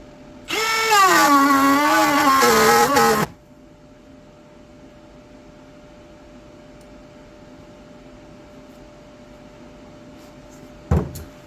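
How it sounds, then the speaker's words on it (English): A battery-powered router cutting wood on a workbench whines loudly for about three seconds with a wavering pitch, then stops abruptly, leaving a quiet room hum and a single sharp knock near the end. "we're going to go ahead and route it now"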